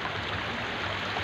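A deep river near Calamba, Laguna rushes steadily past, a dense, even wash of flowing water heard close up with no voices.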